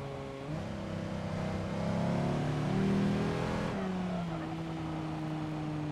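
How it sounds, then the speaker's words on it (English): A luxury van's V10 engine in a video game revs up and holds a steady drone, pitch climbing then settling back as it shifts, loud and close with no talk. "It sounds like it uses the V10 for the Chantilla."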